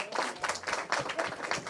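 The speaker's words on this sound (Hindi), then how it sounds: "मेरे गीत के स्वागत में एक बार जोरदार तालियां बजाइए।" Audience applause at a Hindi poetry reading in Delhi's Mandi House, welcoming a new love song from the poet; a brief, moderately loud burst of clapping with uneven pulses.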